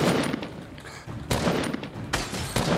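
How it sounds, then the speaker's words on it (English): Gunfire in the video game Fortnite rings out in rapid bursts, a few loud volleys separated by short gaps, with no talk over them. "Oh, I hear gunshots."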